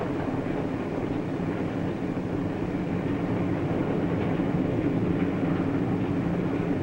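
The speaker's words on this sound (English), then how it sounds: "While the train speeds into the dusk" A passenger train rumbles along steadily at close range, a continuous dense roar of wheels and track noise with no pauses.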